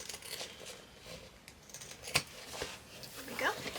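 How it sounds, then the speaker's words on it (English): Pinking shears snipping through fabric seam allowance close to the stitching on a sewn shoulder bag, a few faint crisp cuts and soft rustles, quiet and close. "use your pinking shears about 1 inch down and just trim down this seam allowance close to your stitches"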